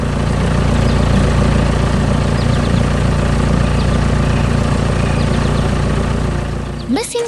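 A green construction machine works hard on brown ground in a farm cartoon, its engine a loud, steady low drone throughout that ends with a brief rising whine.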